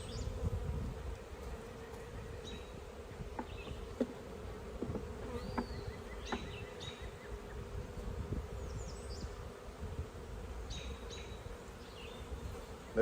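Honeybees buzzing around an open beehive during a hive inspection, a steady continuous drone with individual bees passing close by now and then, no talk over it.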